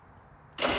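A 50-year-old car engine with a carburetor cranks and catches, roaring loudly into a steady, close run after a short stretch of quiet low rumble.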